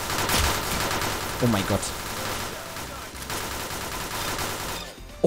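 Rapid gunfire from a weapon in the Roblox video game crackles in dense bursts throughout, fairly loud and continuous, while a man exclaims over it.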